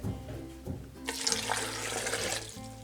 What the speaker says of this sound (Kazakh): Одан кейін оның үстіне 1 стакан суды құйып